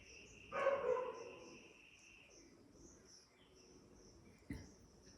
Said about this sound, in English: If I was to describe you this dog barking outside, bark is a word.